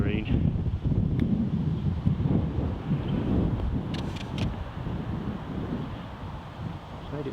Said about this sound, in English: try and actually shelter from a bit of the wind noise. It's extremely windy.